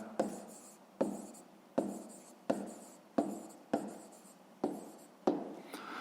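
Pen writing on paper during a fifth-grade maths exercise, eight or so evenly spaced strokes, each a sharp scratchy start fading quickly, close and quiet with no talk.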